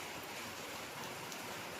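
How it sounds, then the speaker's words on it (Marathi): Morning rain falling, a faint, even hiss of steady rainfall without distinct drops or voices. "सकाळ सकाळी 7:30 वाजता पाऊस चालू आहे"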